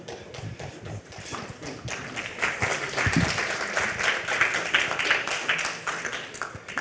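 A conference audience applauds after a presentation, scattered claps at first building into fuller, steady clapping that carries through to the end.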